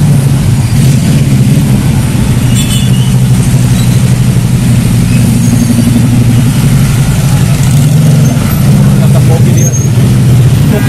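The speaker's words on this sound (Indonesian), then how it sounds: "Ada yang gunakan moge juga nih." A large motorcycle engine rumbles steadily on a busy city street at evening rush hour, a continuous loud low drone mixed with surrounding traffic and engine noise throughout.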